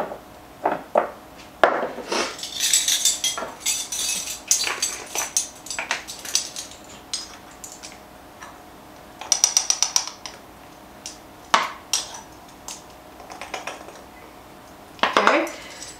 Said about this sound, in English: we're going to mix this all together really well. Make sure all the shrimp is seasoned